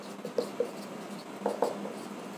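Marker or chalk strokes on a board during an accounting lesson, a few short scratchy bursts spaced apart, fairly close and alone without talk.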